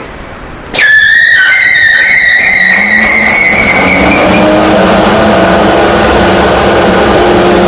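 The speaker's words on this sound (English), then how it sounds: "remove the lock pin on this blower switch and then switch on the blower" A centrifugal blower with a forward curved vane switches on and spins up on a test rig, its rising whine sweeping upward over the first few seconds before settling into a steady, loud running roar.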